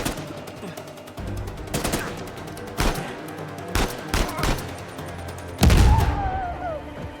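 Bursts of gunfire in the video game Uncharted 4, a run of sharp shots followed by a heavier blast near the end, with scattered game sounds between.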